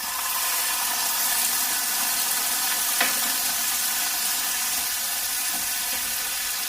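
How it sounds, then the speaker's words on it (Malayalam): Steady broadband sizzle of spice powders frying in a pan for a fish curry with shallots, with a brief splash-like burst midway as tamarind water goes in; close, continuous and loud, with no talking. "അപ്പം ചേർത്ത പൊടികളൊക്കെ നന്നായിട്ട് മൂത്തിട്ടുണ്ട് ഇതിലേക്ക് പുളിവെള്ളം ചേർക്കാം"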